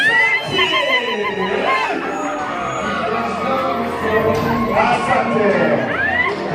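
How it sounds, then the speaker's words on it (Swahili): Wedding guests greet the arriving bride with high, wavering ululation and cheering, joined by a dense, loud crowd of shouting and babbling voices that continues throughout. "tutaweza kupiga nduru takatifu, nduru takatifu ya vigelegele, makofi sana ili tuweze kupokea bi harusi"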